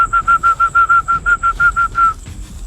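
A series of about a dozen short, evenly spaced high whistle notes from a person whistling repeats steadily for two seconds, then stops, leaving faint background noise.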